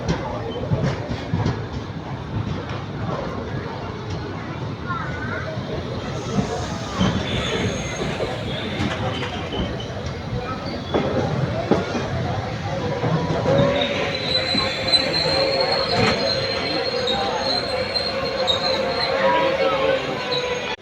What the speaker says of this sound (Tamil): கரெக்டாக திருச்சூர்லேருந்து வண்டி கிளம்பிருச்சு